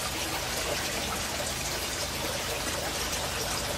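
Water flows steadily into and drains out of backyard aquaponics tanks growing tomato plants, a constant dense rushing and trickling wash, near and unbroken, with no voices.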